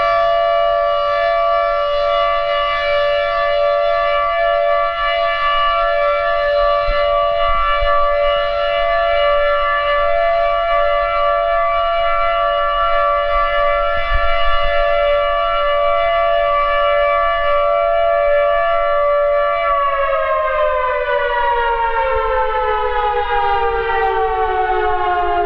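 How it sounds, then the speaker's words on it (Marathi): A civil defense siren sounds the signal for observing silence, a loud steady wailing tone held for about twenty seconds before its pitch slowly falls as it winds down. "10:59 ते 11 वाजेपर्यंत या वेळेत मौन पाळण्याची सूचना देणारा सायरन वाजविण्यात आला."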